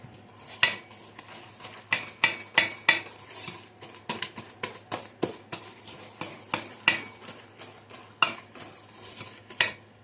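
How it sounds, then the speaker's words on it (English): A whisk beats sugar into brownie batter of eggs and vanilla in a bowl, making quick, regular clinking and tapping strokes close up with no talk. "we're going to add the sugar. Just whisk it really good"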